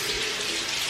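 Hot water runs from a tap in a steady, close, full hiss that holds level throughout with no talk.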